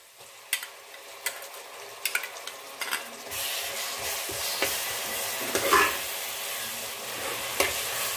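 Onions, mint and ground masala fry for a chickpea veg biryani: scattered scraping and stirring knocks at first, then a continuous bright sizzle swells up and holds, with occasional spoon taps, no voices.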